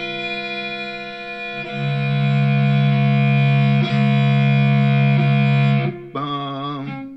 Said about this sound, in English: And if I put distortion on it, you'll hear a third note.